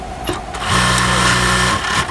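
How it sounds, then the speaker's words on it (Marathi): A large industrial buttonhole stitching machine runs steadily for a couple of seconds with a loud mechanical whir and a rapid stitching rhythm, close up and with no voices over it. "हे बघा काच मारतात. काच मशीन आहे."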